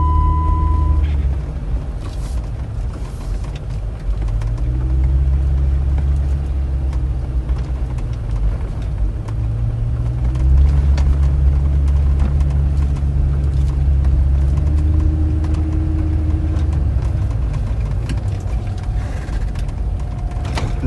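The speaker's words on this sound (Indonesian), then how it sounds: "Ini knalpotnya diganti, guys, sama ownernya." Jeep Wrangler engine fitted with a replaced aftermarket exhaust, heard from inside the cabin as a steady, loud low rumble throughout, with the idle tone shifting slightly as it runs.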